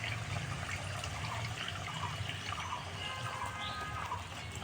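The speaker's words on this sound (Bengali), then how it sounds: "খুবই অল্প জল দিয়ে দিলাম" A little water goes into a pan of sizzling fish curry spices, giving a soft, steady hiss and bubbling that carries on evenly at moderate volume.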